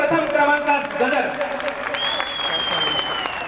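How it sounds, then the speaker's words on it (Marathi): An audience at a 2003 Maharashtra arts festival prize announcement breaks into sustained applause for a first-place poetry reciter, dense clapping filling the hall evenly throughout, with a faint whistle rising partway through. "एक वार सर्वांचा टाळ्यांचा प्रथम क्रमांकात गदर"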